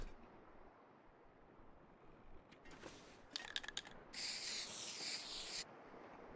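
A spray can hisses in The Long Dark, first as a few short sputtering bursts, then as one steady, bright hiss lasting over a second against a quiet wind-like background.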